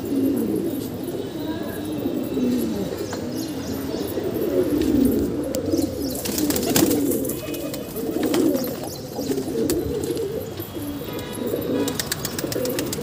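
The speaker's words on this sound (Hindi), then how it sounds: "ये कबूतरी है।" Pigeons coo repeatedly on a rooftop, low throaty rolling calls in an ongoing rhythm, close and clear with outdoor background and occasional voices.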